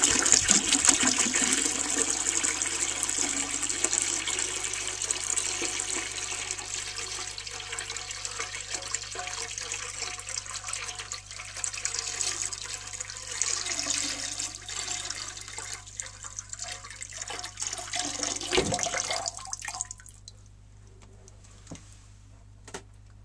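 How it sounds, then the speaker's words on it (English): Water is poured by hand from a gallon container into the tank of a 1952 Eljer Sylenta toilet, making a steady, moderately quiet splashing gush that lasts about twenty seconds and then fades to a faint trickle. "So now I'll fill the tank manually."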